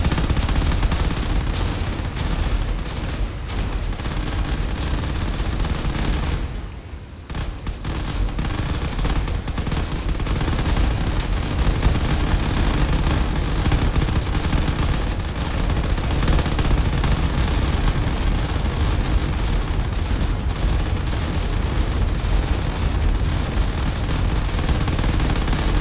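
Fighter craft launch missiles in a drone combat video game during a carrier battle, producing a dense, continuous barrage of rapid firing and blasts that fills the scene, briefly dropping out for a moment before resuming.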